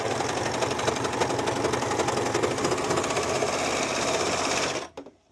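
A sewing machine runs steadily as it re-stitches a seam on a pair of worn-out pants, a loud continuous mechanical whir that holds for almost five seconds and then stops abruptly.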